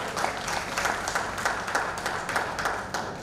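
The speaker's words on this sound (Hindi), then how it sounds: "एक बार जरा मुझे तालियां बजाकर बता दीजिए" An audience at an international Jain literature gathering claps steadily for the whole stretch, a dense, even wash of many hands with faint crowd murmur beneath.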